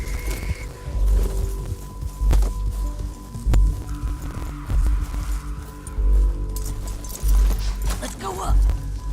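Horse hooves clip-clop at a steady walking rhythm in Red Dead Redemption 2, a loud recurring thud under low game ambience and a voice talking.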